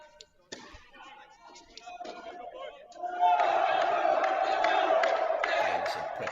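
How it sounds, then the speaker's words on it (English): Crowd of college teammates from the NJIT team cheering at a tennis match, a loud sustained burst of cheers and whoops rising after a quieter stretch of scattered chatter. "buddies from the NJIT team are here cheering him on"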